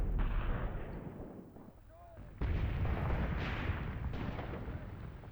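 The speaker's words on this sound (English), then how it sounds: "We've got sort of four guns firing 3 rounds." Artillery in the Graviteam Tactics war game booms continuously as several guns fire high explosive rounds, a dense loud rumble of overlapping blasts that dips briefly then surges again.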